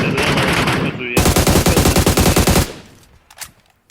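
Automatic gunfire in the video game PUBG Mobile, a loud close burst of rapid rhythmic shots lasting over a second, then scattered fainter sounds, with a voice audible early on.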